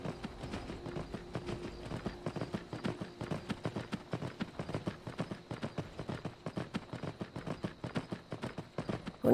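A horse gallops in Skyrim VR, its hooves drumming a fast, steady clip-clop rhythm of close, regular thuds that runs without a break for the whole stretch, with no talking over it.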